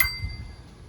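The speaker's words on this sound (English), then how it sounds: "So now this has a bell." Bell mounted on a CWC Roadmaster bicycle gives a single bright ding right at the start, then rings out faintly and decays quickly.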